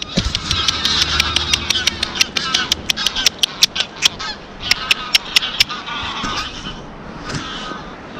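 A flock of geese honking loudly and repeatedly at feeding time, sharp calls bursting in irregular clusters close by, with some background rustle and noise.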